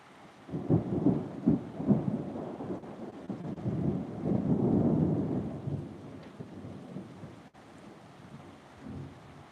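Rain falling with rumbling thunder rolling through several times, low and moderately loud, over a steady wash of rain and wind noise, with no voices.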